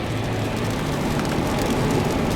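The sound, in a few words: rain falling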